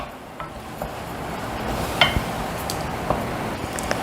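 Ground tomato and ginger garlic paste sauté in a pan for spicy palak kichdi, with a faint, low sizzle under scattered spoon taps and stirring scrapes against the pan.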